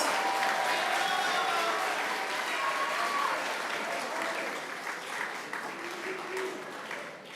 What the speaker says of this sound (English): I would like to give a big round of applause to the Community Service Award winners